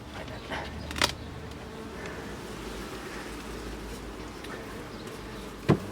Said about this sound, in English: A lot of bees in here